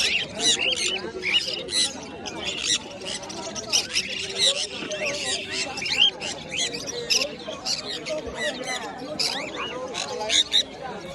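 Birds squawking and chirping at a busy bird market, including a rare pure white female cockatiel, with sharp repeated calls over dense crowd chatter and background voices.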